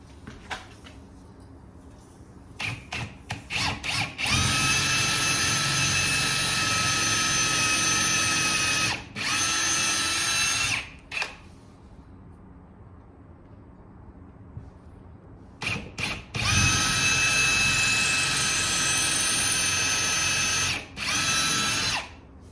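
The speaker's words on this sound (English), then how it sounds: "So let's get those holes drilled." A power drill whines loudly in long bursts, drilling holes into a garage wall, stopping and starting several times with short pauses between holes.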